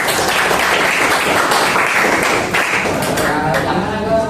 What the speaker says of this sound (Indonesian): Tepuk tangan dulu dong buat Gali